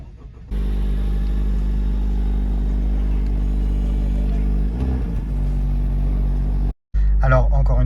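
A Honda Civic Type R FL5 engine fires up and settles into a steady, deep idle with a low humming drone, briefly cut off near the end before resuming, with someone speaking nearby.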